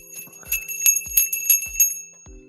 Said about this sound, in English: I just made a bell ring without actually holding one.